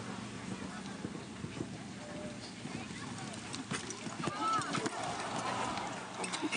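A show jumping horse gallops toward a big oxer in a World Cup jump-off at Bromont, its hoofbeats rolling under a commentator's voice and a steady arena crowd murmur.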